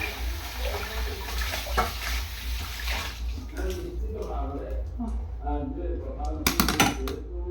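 Running water and clattering dishes and pots being scrubbed under a tap, with a steady low hum and a voice talking over it.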